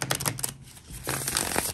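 A deck of tarot cards is shuffled up close in quick riffling bursts, two clusters of crisp flicking clatter separated by a brief pause.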